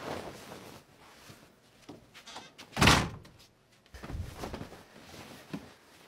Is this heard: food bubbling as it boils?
no